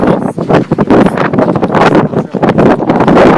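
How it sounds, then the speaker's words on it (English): Strong wind blows outdoors beside a greenhouse, producing loud, continuous gusting roar and buffeting against the microphone with no break, and no one speaks. "here we've walked outside because it's plenty windy out still"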